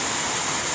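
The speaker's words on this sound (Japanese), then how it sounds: "2日目でも、これぐらいの水が流れてくると、こういうことですね" Swollen river water rushes hard two days after heavy rain near Arima Onsen, a loud, close, unbroken roar of flowing water with no voices.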